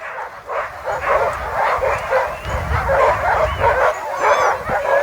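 Sled dogs at the start of a race in Chasseradès, France, bark, yip and whimper excitedly and continuously, close and loud, a whole team sounding off together with no talking.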